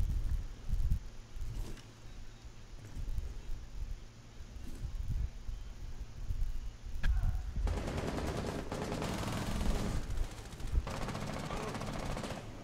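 Rainbow Six Siege gunfire in a team deathmatch on the Presidential Plane map: distant, muffled shots at first, then sustained rapid automatic fire that builds louder toward the end over steady background noise.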